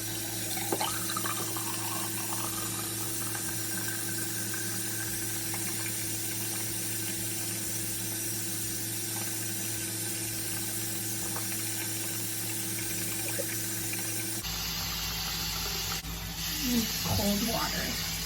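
A bathroom sink tap runs in a steady, continuous stream of cold water while someone washes their face, the flow close and even before its tone shifts near the end.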